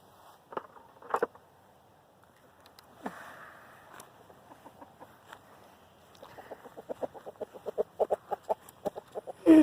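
Chickens cluck softly nearby, scattered at first, then a quick run of short, regular clucks that grows louder toward the end.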